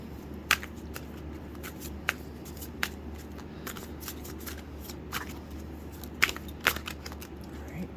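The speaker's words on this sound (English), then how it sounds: "Let's get some more cards." Playing cards shuffled by hand, close and fairly quiet, with soft riffling texture and several sharp snaps and flicks spread across the clip, no talk.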